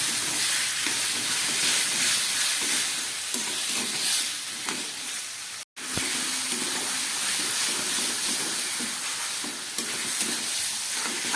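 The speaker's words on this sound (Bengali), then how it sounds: "সঙ্গে দিয়ে দিচ্ছি মশলা ধোয়া জলটা সব দিয়ে আমি খুব ভালো করে এবার কষাবো" Dried lote fish sautés in a pan with spices, tomato and spice-rinsing water, a loud continuous sizzle and hiss with stirring scrapes, broken by one brief silent gap partway through.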